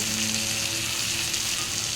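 Vegetables for a papaya and potato fish curry frying in a pan, a steady dense sizzle close by and unbroken, with no voices.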